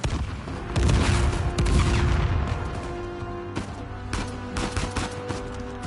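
Rapid gunfire from the video game Uncharted 4: A Thief's End, with loud, close bursts of automatic fire and sharp single shots that pile up in quick succession and ring out over a dense, noisy background.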